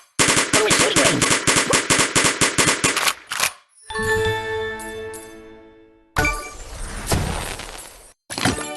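Rapid machine-gun fire from the Kick the Buddy mobile game rattles loudly in a fast burst, followed by shattering and tinkling effects and then another gunfire burst.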